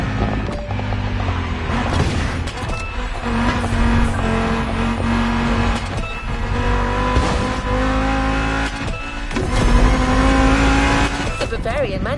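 A BMW Z4 M40i roadster engine running and revving under continuous speech, its tone rising and falling alongside a narrating voice.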